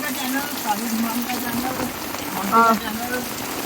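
Heavy rain comes down in Himachal Pradesh as a loud, steady wash of noise, with a voice talking briefly over it partway through.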